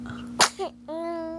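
One sharp sneeze, followed by a short voiced sound and then a sustained vocal tone from someone nearby, at home with a baby.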